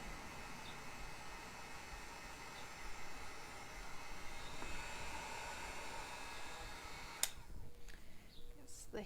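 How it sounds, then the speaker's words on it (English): A heat gun drying watercolor paint gives a steady, faint airy whoosh that runs continuously, then cuts off near the end with a click and some light handling noise. "Yes, the heat guns are very handy for those of us who are impatient."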